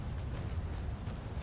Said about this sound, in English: Because I have cannonballs to fire right now.